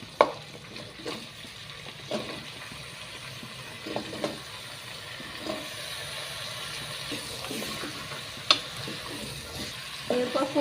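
Pumpkin being stirred in a pan while cooking, soft scraping and light sizzling with a few sharper clinks of the spoon against the pan, steady and close, no talking.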